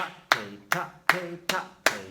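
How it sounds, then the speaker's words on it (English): During a children's music lesson, hands clap five crisp, evenly spaced beats up close, each a sharp smack with a brief ringing tail and quiet gaps between. "Ready, clap it."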